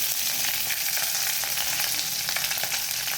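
Red chillies, curry leaves and garlic fry in hot oil with a dense, continuous crackling sizzle that holds steady and close, with faint stirring beneath.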